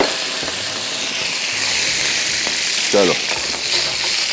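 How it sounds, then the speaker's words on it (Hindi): Basil leaves deep fry in hot oil, giving a continuous bright sizzle and crackle with a brief bubbling burst near the end, while a voice says a short word. "बेसिल लीफ को आप डीप फ्राई कर लें, बहुत मज़े के बनेंगे"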